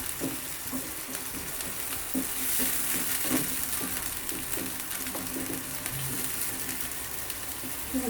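Chicken and onion frying in a pan sizzle steadily while being stirred, a constant hiss broken by repeated soft scraping and clinking of the spoon against the pan.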